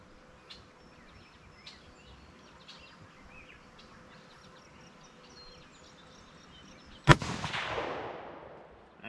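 A single sharp gunshot from a Ruger American Predator rifle in 6.5 Grendel cracks out after several seconds of quiet outdoor ambience with insects and birds, followed by a rolling echo that decays over about two seconds.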